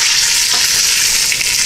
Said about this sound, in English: the ham hocks are sizzling